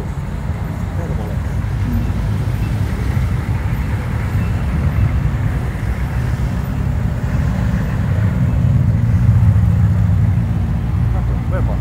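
Cars pass at what sounds like a car show or road event, producing a constant broad rumble of engines and road noise, loud and steady throughout, with people talking faintly under it.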